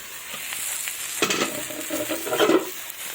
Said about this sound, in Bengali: আমার আলু বেগুন টমেটো তেলের মধ্যে ভাজা হয়ে গেছে